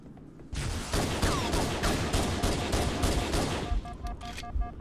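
Dense, rapid gunfire from the Halo: Combat Evolved Anniversary video game fills most of the stretch, loud and sustained, with game effect tones near the end.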